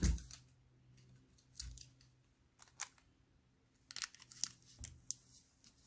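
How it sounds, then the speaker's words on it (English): Tape torn from a roll and pressed down while beading a pearl bracelet: a few sharp, quiet rips and crinkles with small clicks and handling noises, close and faint in a quiet room. "So I'll just tape it so it doesn't move."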